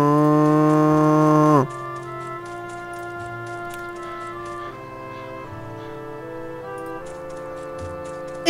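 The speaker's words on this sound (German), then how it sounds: "Kann ich mit der Kuh sprechen? Hallo Kuh!" A cow moos in the video game Bone, one long drawn-out low call that stops abruptly and gives way to a quieter, steady game melody of plucked notes.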